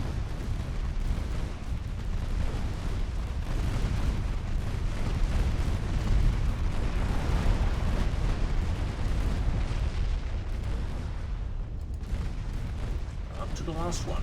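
Battleship secondary guns fire in an Ultimate Admiral Dreadnoughts naval battle, a dense, continuous roar of booming shots and explosions that rumbles loudly throughout, with a voice talking over it.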